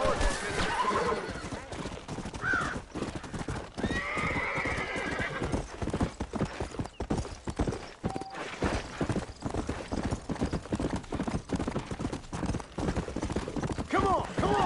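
Horses in the Red Dead Redemption game neigh and whinny several times over steady, close clip-clopping hooves, with game music and brief character talk mixed in throughout.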